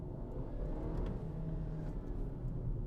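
2019 Volvo XC40 under full-throttle acceleration, heard from inside as a steady low engine drone and rumble with a faint rising whir, moderate in level with no talking.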